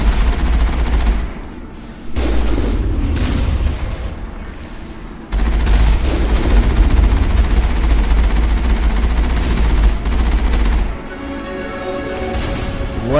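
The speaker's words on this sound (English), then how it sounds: "Oh crap, heavy turret." A heavy turret in the Mass Effect video game hammers out loud, sustained bursts of booming gunfire with short pauses between volleys, dense and continuous, with no voice over it.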